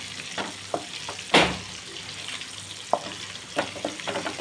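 Onions frying in a wok-style pan with salt and turmeric, a low steady sizzle broken by a few sharp stirring scrapes and clacks of a spatula, close and fairly quiet, with no talking.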